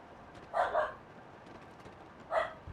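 A dog gives a quick double bark, then a single bark a couple of seconds later, fairly close and clear over a quiet background.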